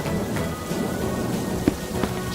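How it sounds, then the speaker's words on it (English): Cartoon rain pattering steadily, with a soft rumble of thunder and a few sharper drops against a surface. "It's raining, and Peppa spots her rainbow umbrella."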